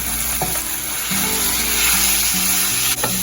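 Broccoli stems, celery, carrots and onions sizzle steadily in a hot pan, a broad continuous frying hiss with a few soft knocks of stirring, close and fairly loud with no talk.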